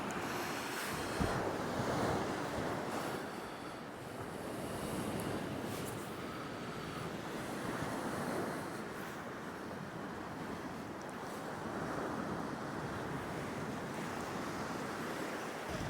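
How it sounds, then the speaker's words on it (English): Steady wind buffets the microphone at an eroding beach in Hemsby, with surf rumbling underneath. No voices, just a continuous roar that swells and eases. "Pretty windy, but it's not too bad down here."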